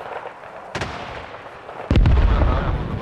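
Two heavy mortar blasts from Arma Reforger thud through a quiet battlefield, the first sharp and brief, the second a louder boom that rumbles on afterward.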